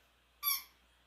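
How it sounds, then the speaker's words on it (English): A single sharp, high squeak sounds during a nighttime ghost hunt at a theme park, brief and fairly loud, rising suddenly then fading out against near silence. "He was giving you guys a squeak, letting you know he was here."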